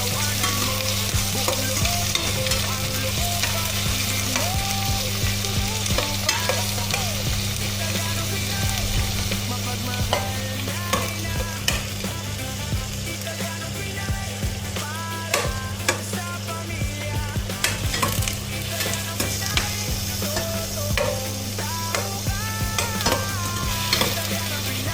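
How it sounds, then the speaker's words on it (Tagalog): Tomatoes sizzle and fry in a hot pan with onions for pinaasimang manok, a constant loud crackle with a spatula stirring and scraping through it, close up and continuous. "Haluin lang natin hanggang sa lumambot ang kamatis."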